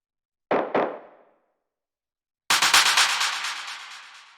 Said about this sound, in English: So these are just some different percussion sounds.